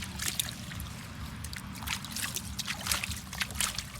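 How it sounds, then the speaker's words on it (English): Water splashing and trickling into a container holding toy mini cars, with a steady sloshing rush and scattered splashy bursts throughout, fairly close and moderately loud. "Now I put some water"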